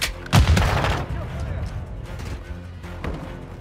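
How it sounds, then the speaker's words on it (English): Video game firefight with heavy gunfire and booming blasts, a loud burst at the start followed by scattered further shots and rumbling, with voices talking over the combat. "Taking effective fire."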